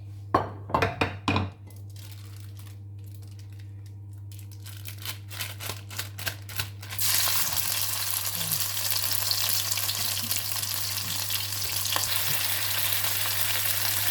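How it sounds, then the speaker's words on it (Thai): After a few rustling and tapping sounds, ready-made Thai holy basil (kaphrao) stir-fry paste hits a hot oiled pan and a loud, steady sizzle of frying takes over. "น้ำมันเริ่มร้อนแล้วเดี๋ยวเอาเครื่องผัดกะเพราใส่ลงไปเลย"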